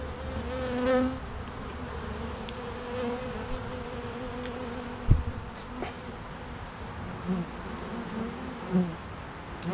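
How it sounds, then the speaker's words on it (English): Dense, steady buzzing of many honey bees swarming at a hive close by, a continuous droning hum with a few individual insects passing louder near the middle. "I got mediums, two deeps, and a lot of bees"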